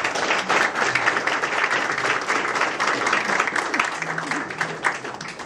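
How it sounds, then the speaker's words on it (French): Warm applause from the crowd at the inauguration of a youth training centre in Laval, honouring Father Jacquet; dense, steady clapping fills the whole stretch without a break. "Nous avons un chaud applaudissement pour Père Jacquet"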